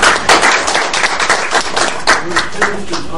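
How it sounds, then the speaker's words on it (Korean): An audience at a National Assembly lecture on water veins (dowsing) applauds to welcome the lecturer, with dense, steady clapping from many hands throughout and some voices mixed in. "저희가 환영하는 박수를 한번 좀 맞아주십시오."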